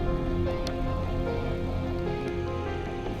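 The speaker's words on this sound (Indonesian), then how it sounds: "Di bawah guyuran hujan," Heavy rain pours in a dense, steady hiss on a surface, loud and even throughout with no talking.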